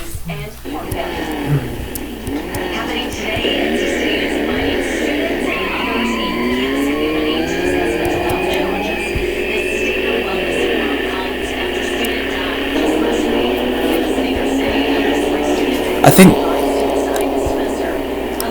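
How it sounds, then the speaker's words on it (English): An Apollo 3500 GT sports car engine runs and revs, its pitch rising and falling through gears in a steady drone, with a brief sharp knock near the end. "listen to the sound of this car for a minute now"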